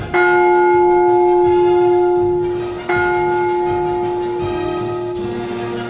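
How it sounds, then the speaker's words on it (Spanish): Bell signals sent underwater from shore stations or buoys, heard as two or three sustained ringing bell strikes with long resonant decays, loud and alone. "Su casco tenía micrófonos para captar señales de campanadas emitidas hasta a 15 millas por estaciones terrestres o por boyas."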